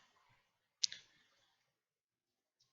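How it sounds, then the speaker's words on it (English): A computer mouse gives a single sharp, close click in a quiet room, with a short tail of faint room noise after it and near silence for the rest. "double click in this text box"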